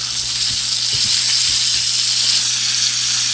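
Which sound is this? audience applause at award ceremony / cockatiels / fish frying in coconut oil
fish frying in coconut oil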